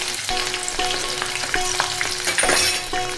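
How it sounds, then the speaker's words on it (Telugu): Garlic fries on low heat in a pan for an Indian gooseberry pickle, a steady loud sizzle and crackle with stirring scrapes rising and falling throughout, no voices. "వెల్లుల్లిపాయలు కొద్దిగా వేగిన తర్వాత పసుపు వేసి కలపాలి"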